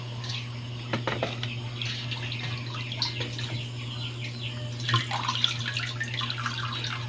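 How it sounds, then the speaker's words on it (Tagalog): Hot water runs and splashes into a pot, a steady pour with small drips and a faint hum underneath, no voices. "Dagdagan ko ng, lang natin ng tubig. Konti. Mainit na tubig to mga karos."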